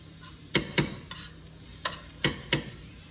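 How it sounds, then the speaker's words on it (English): About three-quarters of a pound of ground beef browning in a skillet for Creole rice, with a faint low sizzle beneath several sharp, close clicks and scrapes of a utensil stirring against the pan. "I'm putting it in my other skillet, and I'm letting it just simmer to get brown."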